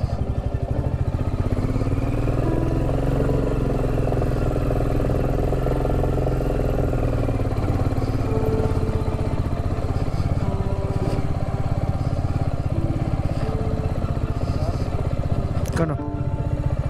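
A heavy motorbike labouring off-road on a rough, broken mountain track toward Sandakphu, a loud continuous engine drone with shifting revs, a voice talking over it.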